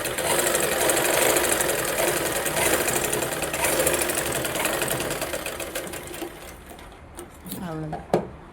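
A sewing machine runs continuously and close by, stitching the lining of a blouse, then slows and stops near the end, where a few soft clicks follow.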